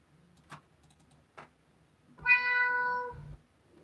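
Two faint clicks, then a single drawn-out cat meow, clear and close in a quiet room.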